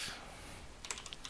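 A quick burst of clicks on a computer keyboard as a Linux command is typed, close and fairly faint, with a few light keystrokes in a brief run.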